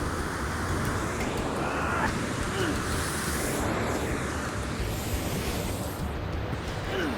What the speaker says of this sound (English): Man, they are going hard on these waterfalls right now,